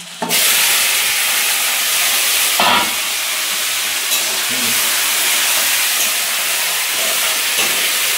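Cut crabs fry in a hot pan, a loud, sustained hiss and sizzle that bursts in abruptly and holds steady, with a few faint knocks but no talking.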